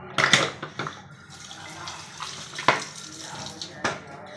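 Hot water from boiled apple snails is poured off from a pot in several short splashing gushes with pauses between them, close by.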